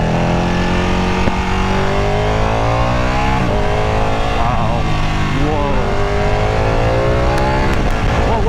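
A Ducati 959 Panigale superbike in race mode revs hard, its engine note climbing and dropping through repeated gear-like sweeps, loud and close throughout with a rider's voice exclaiming over it.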